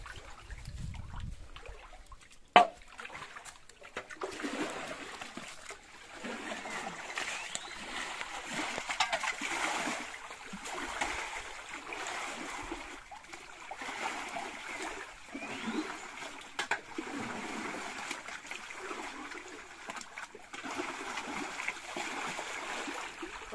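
Scarce water, during a time of wildfires, is scooped out and poured, giving quiet, irregular splashes and trickles over a long stretch, with one sharp knock near the start.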